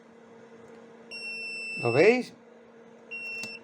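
A homemade chicken-egg incubator's alarm emits a short high electronic beep near the start and another near the end, over a steady low hum, while a person speaks briefly in the middle.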